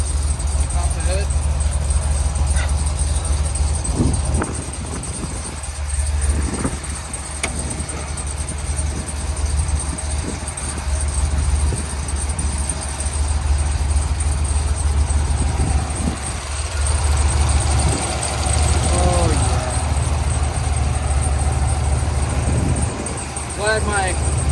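A Cadillac Escalade fitted with a supercharged LT4 V8 and headers idles with a steady low rumble close by, a few revs rising over it while people talk nearby.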